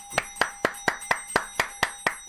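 One person claps steadily in welcome during a live lottery-number stream, ten crisp even claps about a quarter second apart, close and clear with no talking over them.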